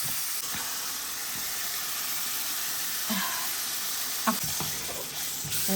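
Garlic and tomato fry in a pan with a steady, close hissing sizzle, broken by a few scraping stirs of the utensil.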